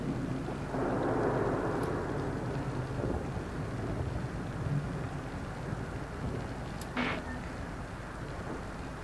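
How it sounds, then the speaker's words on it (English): A raging storm in the video game The Invincible, loud continuous rain hiss with low rumbling thunder rolling underneath, and a brief sharp crackle partway through. "The storm's raging."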